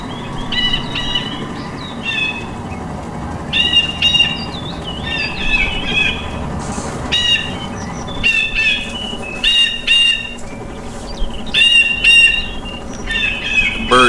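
Repeated bird squawks in ArmA: Cold War Assault, sharp chirping calls recurring in clusters every second or two over a low ambient rumble.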